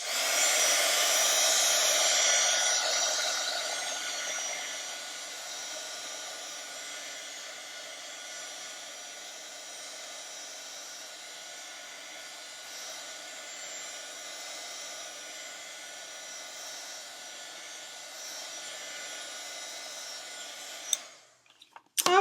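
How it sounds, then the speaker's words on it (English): A heat gun blows steadily over inked paper, a continuous close whooshing hiss that is loudest at first and then settles to an even level before a few clicks as it shuts off. "Again, hit it with the heat gun."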